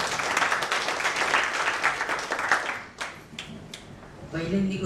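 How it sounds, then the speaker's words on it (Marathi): Audience at a school reunion claps for a teacher, a burst of dense applause that fades after a few seconds into scattered claps and then a voice speaking. "जोरदार टाळ्या त्यांच्यासाठी"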